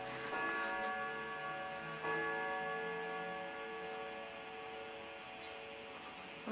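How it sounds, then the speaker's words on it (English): Steady mechanical ticking from a household clock just after it finished chiming, an even tick-tock rhythm with ringing tonal overtones fading slowly, heard alone with no voices, fairly quiet and close. "I have to wait for the clock to shut up"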